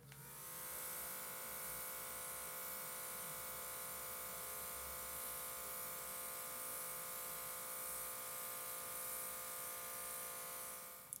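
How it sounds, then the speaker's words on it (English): An airbrush spraying body paint around the face gives a steady, continuous hiss over a constant mechanical hum, with no talking. "And going to start airbrushing the perimeter of my face."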